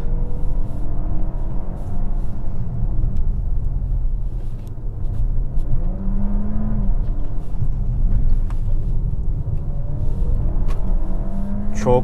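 A DS 9 E-Tense 4x4 plug-in hybrid sedan with 360 hp, heard from the cabin while driving: a steady, loud low rumble of engine and road noise with faint whining tones that rise and fall as the car speeds up and slows.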